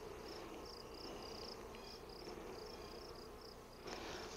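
Honeybees buzzing steadily inside a hive during a colony inspection, with a queen cell found as the bees enter swarming mood; a continuous soft, close hum with faint higher whines, no voices.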